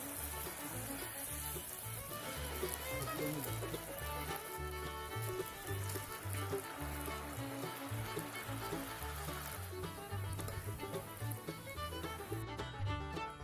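More plantain bajji go into a pan of hot oil, giving a continuous, fairly loud close-up sizzle with fine popping and bubbling that holds throughout, with no speech.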